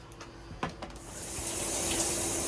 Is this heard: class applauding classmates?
no